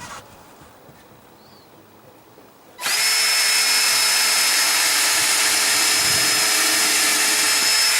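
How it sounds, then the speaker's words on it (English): After a quiet start, a power drill whirs to life, drilling pilot holes while installing a storm door, and runs steadily at a loud, constant whine until the end. "when we're drilling our pilot holes"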